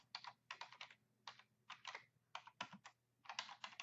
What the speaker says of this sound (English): I can't type and speak at the same time